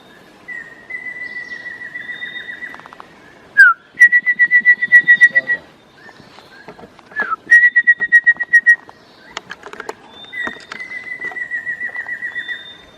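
Black-faced antthrush at Tikal in Guatemala, clear whistled calls of steady repeated notes coming in several series, answered by close human whistled imitations of the same call.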